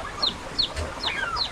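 Darag native chickens cluck in short repeated bursts at close range, several quick calls spread across a brief moment with faint farmyard background.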